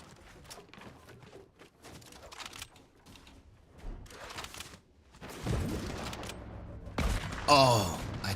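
Hunting rifle shots in a first-person shooter game, several sharp bursts landing in the last few seconds amid game clatter, louder toward the end.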